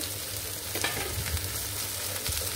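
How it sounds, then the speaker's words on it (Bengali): Chopped onion, garlic and chili hit hot oil in a pan, giving a steady close-up sizzle broken by scraping stir sounds, with no talking. "তেলটা আমার গরম হয়ে গেছে। এখন এই পর্যায়ে দিয়ে দিব কিছু পেঁয়াজ কুচি, রসুন কুচি।"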